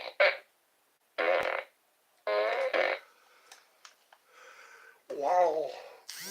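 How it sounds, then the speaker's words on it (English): A string of fart sounds comes in short, loud, rasping bursts separated by silent gaps, one longer and wobbling toward the end, with quieter breathy noises between. "It's the same fart sounds."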